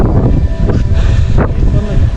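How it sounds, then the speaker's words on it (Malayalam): Strong wind buffets the microphone with loud, continuous low rumbling and gusty roar, with a few brief muffled surges over it. "അതെ, നല്ല കാറ്റുണ്ട്"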